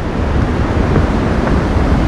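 Steady, loud wind blows at the seaside in Darłówko, Poland, a broad roar of gusting air across the microphone with a faint wash of surf beneath it.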